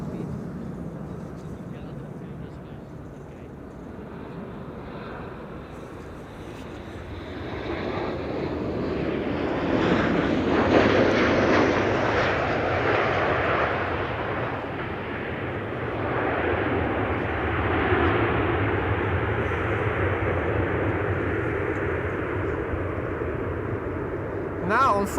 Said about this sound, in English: KLM arriving from Dublin, Ireland.